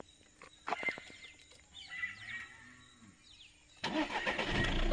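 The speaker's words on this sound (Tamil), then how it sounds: "இப்போ நீங்க வண்டி ஸ்டார்ட் பண்ணுங்க" A car engine cranks and catches after a quiet stretch with faint birdsong, then settles into a steady idle that fills the rest of the clip, heard at moderate distance outdoors.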